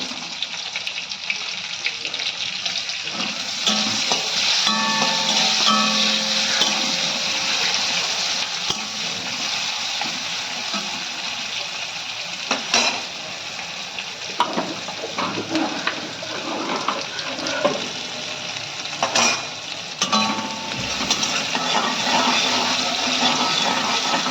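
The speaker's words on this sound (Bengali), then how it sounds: "পেঁয়াজটা আমার ভাজা হয়ে গেছে লাল লাল করে।" Onions with black cumin frying in oil in a kadai, a dense continuous sizzle throughout, with scattered clicks and scrapes of stirring.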